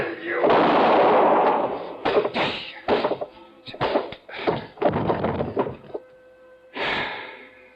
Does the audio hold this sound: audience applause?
no